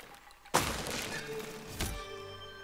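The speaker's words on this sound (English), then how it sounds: "It also mounts a siege cannon" Siege cannon firing in the video game Besiege: a sudden loud boom with a broadband blast, followed by a second heavy thud about a second later, with rumbling debris noise between and after.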